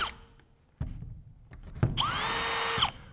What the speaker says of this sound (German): Und jetzt nehme ich einen dünneren Bohrer